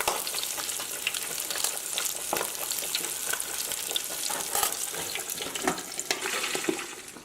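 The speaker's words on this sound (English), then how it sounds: "Now that the splattering has quieted down a bit, we're going to turn over our pork" A large pork picnic butt deep-frying in a basket, loud continuous sizzling with sharp crackling splatters and pops scattered throughout, close up with no talk.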